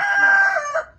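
A fighting cock offered for sale gives one loud, close crow that holds steady and then trails off at the end, with no talk over it.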